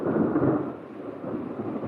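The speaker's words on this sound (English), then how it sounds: "Thunder." Thunder from a 1935 film soundtrack rolls as a low, heavy rumble that swells at first and then eases into a softer, lingering growl, with no voices over it.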